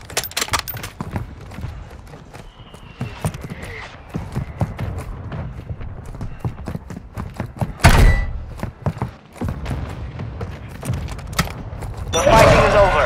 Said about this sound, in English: Hostiles launched a mortar strike.